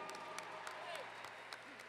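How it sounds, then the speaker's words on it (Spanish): A crowd applauding the Virgin of Chiquinquirá at the Bajada de la Chinita festival, a brief, faint, distant patter of clapping with a voice speaking over it. "¡Un aplauso nuevamente para la Virgen de Chiquinquirá!"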